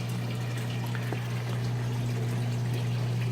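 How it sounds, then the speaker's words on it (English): Water drains steadily into the drain chamber of a seahorse aquarium sump below the display tank, a constant close rushing trickle over a low pump hum, with no talking. "This first chamber would be called the drain chamber, where the water actually drains in from the display"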